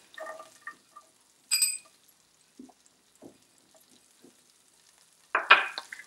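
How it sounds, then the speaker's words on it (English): Butter and chopped garlic sizzle in a hot pan as white sauce is started, with short bursts of frying crackle and a few scraping stirs between quieter gaps. "So into the hot pan I am adding a cube of butter. Now I am adding chopped garlics."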